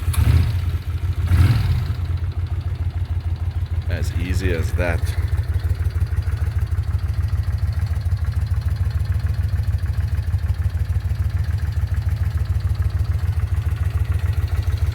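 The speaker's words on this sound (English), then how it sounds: "I just love the sound of these V-twins." A 1978 Honda CX500 V-twin motorcycle engine cranks and catches from cold, then settles into a steady, loping idle with a rhythmic low pulse; someone speaks briefly near the start.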